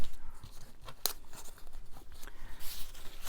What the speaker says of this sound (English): it's hard to tear this homemade paper.